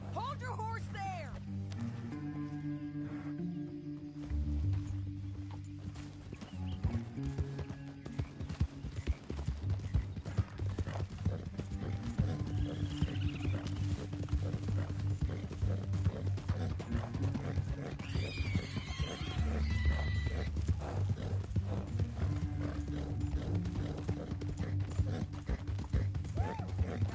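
Horses in Red Dead Redemption 2 clop steadily and let out a whinny partway through, mixed with game ambience and some voices.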